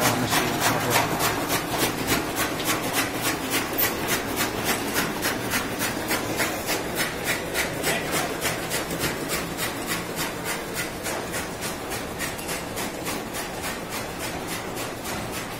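A chaff cutter runs in a goat shed, its blade chopping fodder in a steady rapid rhythm of repeated scraping strokes, close and continuous with no talk over it.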